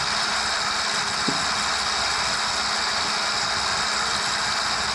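A modified tractor engine runs at a steady idle-like rumble, loud and continuous with a faint vibration, alone without talk.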